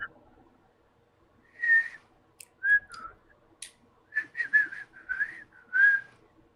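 A person whistles a few short, breathy, wavering notes in a quiet room, tentative and uneven with gaps between tries, close to the microphone.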